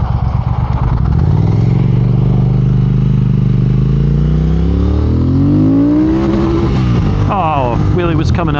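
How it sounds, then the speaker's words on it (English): A 2022 Triumph Speed Twin, ridden on Michelin Road 6 tires, roars close and loud, its engine note sweeping up steadily in pitch until it hits the rev limiter and stutters in choppy bursts. "Wheelie was coming up and then rev limiter killed it"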